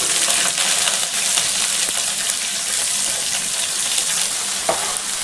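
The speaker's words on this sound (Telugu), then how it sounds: "ఈ పచ్చిమిరపకాయలు ఈ ఉల్లిపాయ ముక్కలు ఈ కరేపాకు అంతా బాగా ఆగాలి నూనెలో మగ్గాలండి ఇవన్నీ" Green chillies, onion slices and curry leaves frying in hot oil for a tuna fish curry, giving a loud continuous crackling sizzle with occasional stirring scrapes.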